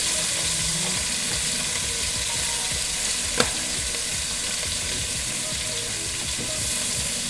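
Cube steak frying in a hot pan sprinkled with complete seasoning: a loud, steady, close sizzle runs throughout, broken only by one brief sharp click partway through.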